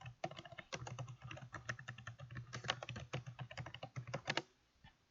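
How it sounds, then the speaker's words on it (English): Keys clatter in a rapid, irregular run of close, crisp typing on a computer keyboard, then stop abruptly near the end, leaving quiet. "so I'll type it in"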